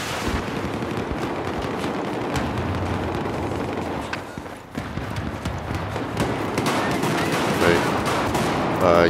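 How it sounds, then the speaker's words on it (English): Battlefield 4 gunfire on Xbox One, with grenade launcher shots among dense rifle fire and blasts. The firing is loud and continuous throughout, crowded with many overlapping sharp reports close by. "That's the grenade launcher."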